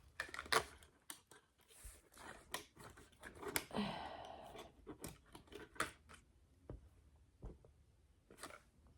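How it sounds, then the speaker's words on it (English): Scissors trim off excess material on a handmade beetle wall-hanging sculpture, giving quiet, close, irregular snips and clicks in a mostly still room. "let's cut some of the excess off"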